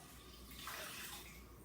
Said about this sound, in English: putting in the filtered water